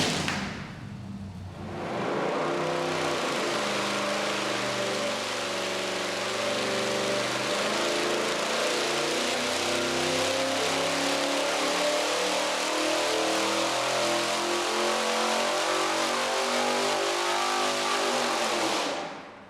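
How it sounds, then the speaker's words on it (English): A V8 engine fitted with Zoomies headers fires up and runs hard to burn the paint off the new pipes, a loud, rough, continuous roar that starts after a short pause, holds steady for about seventeen seconds, then cuts off. "we're firing up the Zoomies to burn the paint off of them and hopefully shoot fire"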